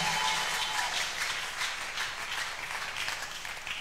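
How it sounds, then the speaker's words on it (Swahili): A church congregation at an evangelistic seminar gives a sustained round of applause, a dense steady wash of clapping that stays loud throughout and eases slightly toward the end. "Pigia Yesu makofi"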